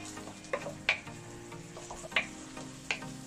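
A spoon stirs onions frying in a pan for fava bean soup, giving a few sharp scraping clicks spaced about a second apart over a soft, steady sizzle, close and fairly quiet, with no talking.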